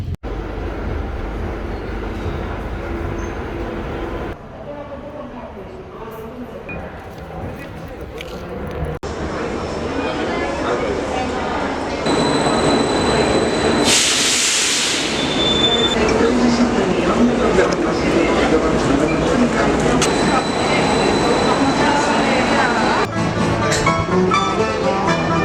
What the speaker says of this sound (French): Je vais me choper le métro